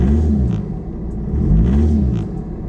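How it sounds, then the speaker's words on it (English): A VW Mk6 Golf GTD diesel engine with rod knock revs in two rising swells, giving a steady close rumble with a faint knocking beneath the sound of the engine. "It's got a little bit of rod knock."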